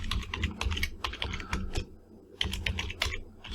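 Rapid typing on a computer keyboard, close and crisp, with bursts of clattering keystrokes broken by a short pause midway, no voices.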